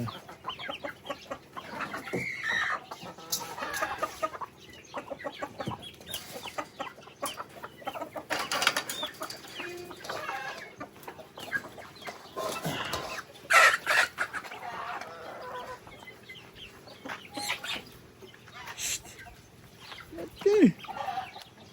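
Chickens cluck and peck around young papaya seedlings on a small farm plot, with a rooster crowing at times, steady nearby fowl sounds mixed with someone talking throughout.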